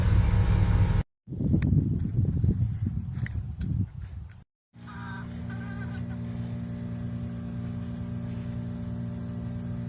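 A restored 1952 two-door hardtop's engine idles with a steady, even low hum after a stretch of scuffling, clattering noise, with a few faint chirps heard above the running motor.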